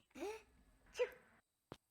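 A short voiced burst with a rising wail, then a sharp higher 'choo'-like burst, and a brief click near the end; a cartoonish character sneeze from the video game Beacon Pines.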